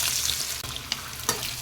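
Sliced potatoes hit hot oil and fry with a loud, close sizzle, broken by a couple of quick scraping stirs in the pan.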